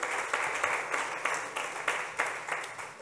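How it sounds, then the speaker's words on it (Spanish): A church congregation applauds during a Sunday service, a soft, fairly distant wash of clapping that swells in repeated pulses throughout. "Dele un aplauso al Rey bendito."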